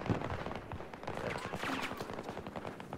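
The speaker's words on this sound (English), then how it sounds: "Lots of bullets, guns, and gunfire." Dense, continuous gunfire from a Battlefield 2042 match: rapid, overlapping shots and bursts crackle at moderate distance in a steady barrage for the whole stretch, layered with busy battlefield noise and some voice-like sound.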